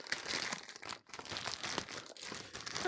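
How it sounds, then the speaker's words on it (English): A plastic bag crinkles and rustles continuously at close range as it is pulled and torn open, with no talking. "Let me see if I can get this plastic bag open here."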